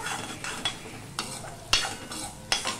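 A ginger spice paste thinned with a little water is stir-fried in a pan for a vegetarian jackfruit kofta curry. A soft sizzle runs under repeated scraping strokes, with several sharper clinks of a spoon against the pan.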